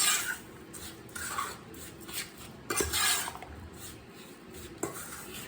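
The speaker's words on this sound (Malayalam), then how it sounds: "ഇപ്പോൾ പൊടിച്ച ബിസ്ക്കറ്റിലേക്ക് നമ്മൾ ബട്ടർ മെൽറ്റാക്കി അത് ഒഴിച്ചു കൊടുത്തിട്ട് നല്ലപോലെ മിക്സ് ചെയ്യണം" Crushed biscuits and melted butter get mixed in a bowl for a mango cheesecake base, heard as soft, uneven scraping and clinking of a utensil against the bowl, close and fairly quiet, with no talking.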